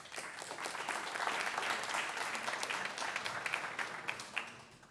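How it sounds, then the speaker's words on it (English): An audience at a live-streamed ceremony applauds in a steady, fairly distant wash of clapping that holds evenly for several seconds before tapering off. "We're all going to clap."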